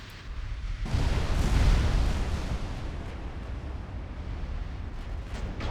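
Naval battle in Ultimate Admiral Dreadnoughts with battleships under fire: a heavy boom opens a long rumbling roar of distant gunfire and explosions that swells, then settles into a steady low din.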